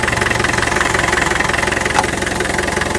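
A Land Rover 2.5 TD diesel engine with its top taken off idles steadily and loudly up close, a dense continuous rumble with a fast even knock and no talking.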